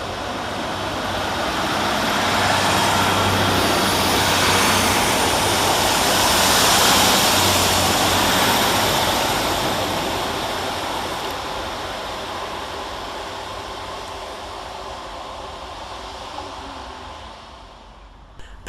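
Two Northern Class 150 diesel units, 150-101 and 150-118, depart Rochdale station, a broad loud engine roar building over several seconds then slowly fading as the trains pull away, with no talk.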